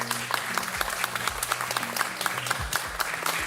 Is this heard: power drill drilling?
no